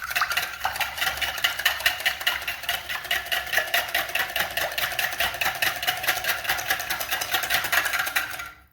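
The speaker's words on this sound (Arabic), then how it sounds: "نخلط المكونات كامل مليح" Egg, oil, salt and other ingredients mixed together in a bowl, with a steady rapid rhythmic scraping and clinking of a utensil against the bowl that continues for several seconds and then stops.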